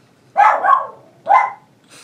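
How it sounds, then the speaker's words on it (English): A dog barks indoors, close and loud: a doubled bark, then a single sharp bark about a second later, and the start of another at the end, with quiet between. "my dog is having a fit at somebody"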